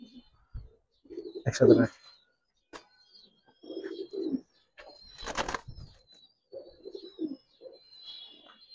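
Pangkhi silver pigeons coo in short, low bursts and flap their wings in quick sharp flutters nearby, with someone speaking briefly between the calls.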